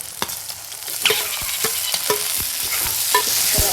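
Tomatoes tossed into a pan of fresh peas for a pea and potato sabudana khichdi, a steady sizzle of frying with repeated scraping spoon strokes, close and clear with no talking.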